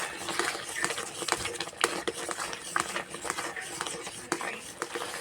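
Chhana being stirred in a pan over low heat, with soft, irregular scraping and tapping of a utensil against the pan, quiet and steady throughout.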